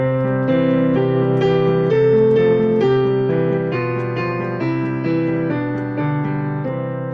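A piano plays "Twinkle Twinkle Little Star" as a simple, bright melody in a major key, with chords underneath, steady and moderately loud, notes evenly paced.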